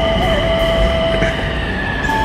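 Metro train at a station, a loud close steady rumble of rail cars with faint wheel squeal and high whining tones running through the short clip.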